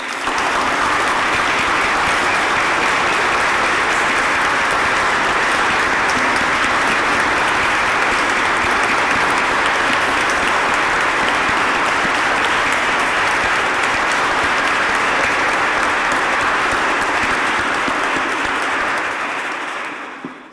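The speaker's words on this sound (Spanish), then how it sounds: "pues con un fuerte aplauso." Sustained loud applause from a large crowd, an even wash of clapping lasting about twenty seconds before tapering off at the end.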